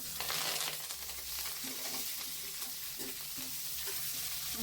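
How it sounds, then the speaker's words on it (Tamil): Onions sautéing in a pan alongside browned dal and urad dal, a steady close sizzle with scattered soft stirring clicks throughout, no voices. "நம்ம இப்போ இந்த நேரம் இந்த வெங்காயத்தை போட்டு நல்லா வதக்கி வைப்போம்மா."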